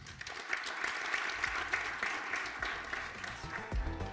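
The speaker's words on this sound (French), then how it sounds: "Je t'en prie, sous vos applaudissements." Audience applause at a conference on digital accessibility, dense clapping held at a moderate level for about four seconds, with a low thump near the end.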